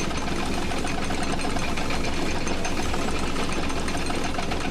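The Bucket Destroyer machine in the video game The Stanley Parable runs with a loud, steady mechanical rattle and hum, like a rapidly knocking engine, unbroken from start to finish.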